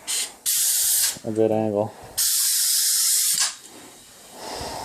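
A Graco Merkur ES airless sprayer lays down a fine finish in long, loud hissing bursts, two sustained sprays broken by a short spoken phrase and compressor noise, with a softer hiss trailing at the end.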